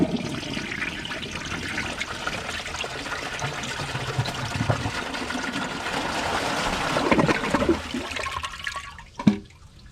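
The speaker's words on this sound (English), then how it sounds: "I'm going to fill up the tank again, and I'm going to hold down the handle to see if it siphons." A Kohler Wellworth Class 5 dual-flush toilet flushes with its handle held down, giving a steady rushing swirl of water that builds, then drains off into a gurgling siphon and trickle near the end.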